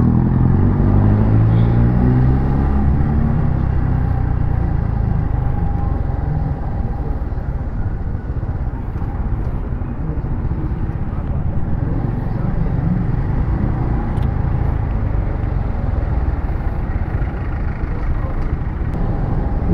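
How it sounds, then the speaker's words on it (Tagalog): Dense road traffic near Project 8 and Congressional, many vehicles streaming past in a steady, loud, unbroken rumble with no pauses between them. "ang tagal kong nakatawid kasi maraming dumadaan na sasakyan"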